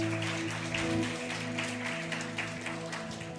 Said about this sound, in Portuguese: Aplauda esses irmãos